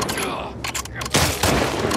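Gunfire in The Last of Us Part II game: a couple of loud, close shots in quick succession, followed by a dense, noisy burst mixed with voices talking.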